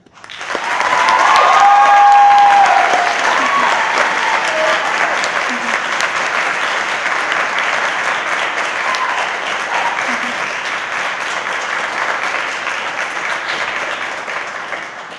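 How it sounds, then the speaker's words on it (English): Concert audience applauding a jazz soloist named David after his solo at a college jazz band performance, a loud, dense, steady wash of clapping sustained throughout with a few faint voices mixed in. "So I think David deserves a big round of applause, not only for his wonderful solo there"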